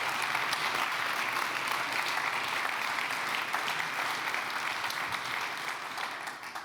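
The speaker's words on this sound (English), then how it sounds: "First of all, big applause" Sustained, even applause fills the hall at a circular economy festival, a dense wash of many hands clapping throughout before thinning slightly at the end.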